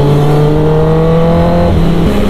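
Several 2018 Kawasaki Ninja ZX-10R sport bikes revving together, a loud, steady high-rpm engine roar with layered harmonic tones that shift pitch as one drops off near the end.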